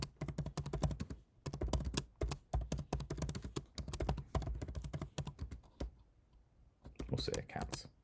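Rapid keystrokes on a computer keyboard as a flow name is typed, a dense run of sharp clicks with a brief pause near the middle, then a few final taps; close and clear.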